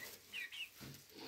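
Young ispenç and sultan breed chicks feeding, giving a few soft, close clucks and chirps in short bursts, ending in a brief louder rustle or flap.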